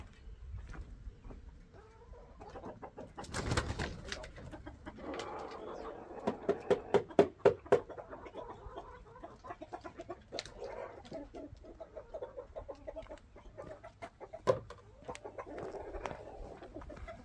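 Chickens cluck and chatter softly nearby, with a cluster of sharper pecks and taps in the middle and scattered clucks throughout.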